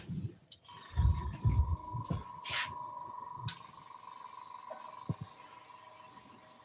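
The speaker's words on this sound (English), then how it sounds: "I'm going to airbrush this on. So we're going to use a little airbrush with a nice light colored blue" Small airbrush spraying a light blue finish onto a woodturning at slow speed, a steady close hiss that starts after a few seconds of handling bumps and continues alone to the end.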